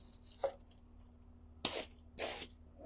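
Three short hissing bursts of a Graco paint spray gun painting a garage door, a faint brief one followed by two louder, closer blasts, each lasting under half a second.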